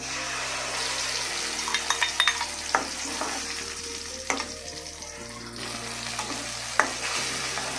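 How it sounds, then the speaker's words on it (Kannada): Blended tomato paste frying in a pan with cumin and green chillies, a steady loud sizzle marked by repeated scraping clicks as a spoon stirs it, up close without speech. "ಈಗ ಮಿಕ್ಸಿ ಮಾಡಿ ಇಟ್ಕೊಂಡಿರೋ ಟೊಮೊಟೊ ಪೇಸ್ಟನ್ನು ಹಾಕೋಣ."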